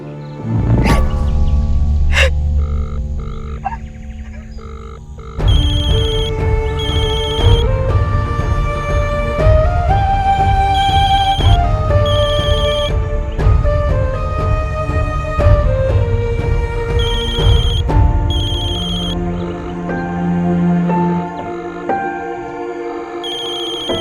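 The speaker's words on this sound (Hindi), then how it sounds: "कौन सा दूसरा फोन बज रहा है?" A phone rings with a repeating melodic ringtone, loud and close, cycling through its tune for a long stretch amid a tense, layered backdrop.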